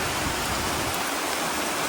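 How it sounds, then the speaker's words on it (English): Heavy rain pours down in a dense, unbroken hiss, loud and close, with no voices over it. "lots of rain, which they predicted"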